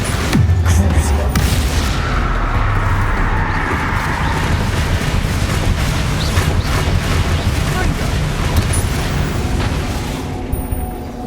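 Spell explosions during combat in Hogwarts Legacy on hard mode, a dense loud barrage of booming blasts and bursts layered with game effects, continuous and close throughout.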